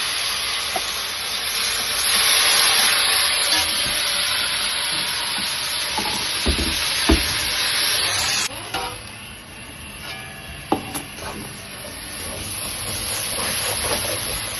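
Spice paste frying in hot oil for a beef curry, a loud, dense, continuous sizzle, broken by a few sharp clacks and stirring scrapes midway.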